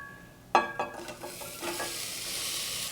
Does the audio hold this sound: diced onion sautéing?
yes